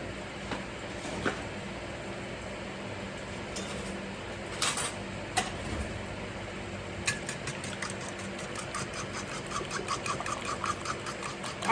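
A whisk beats a French toast egg mixture made with caramel brulee almond milk creamer, giving quick, light, rhythmic ticking against the bowl that builds toward the end over a faint steady background hum.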